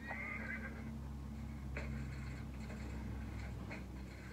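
A horse in The Walking Dead whinnies several times, short high-pitched calls over a constant low rumble, moderately distant.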